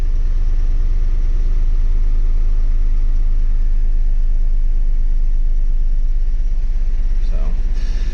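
A Ford Super Duty with a 5.4 3V engine running close and loud, a steady rhythmic low rumble with a missing, uneven pulse, while a brief voice or clatter shows near the end.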